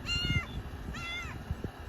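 A cat meows twice at a homestead at night, two drawn-out wavering cries close by, over a busy background of thumps and outdoor clatter.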